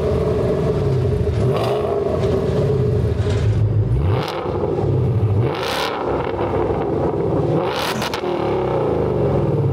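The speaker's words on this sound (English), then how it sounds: "when you really want to hear this thing rip, go ahead and hit that button on the dash and you're letting all 700 plus horsepower sing" Supercharged 2024 MP Concepts Mustang GT of over 700 horsepower with its active exhaust opened, revving loudly and close by in repeated rising bursts over a steady, rumbling idle.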